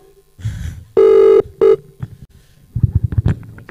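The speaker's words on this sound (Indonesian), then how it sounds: "Aduh, telepon." A telephone bell rings loudly in two bursts, a long ring then a short one, followed by shuffling and thumping handling sounds.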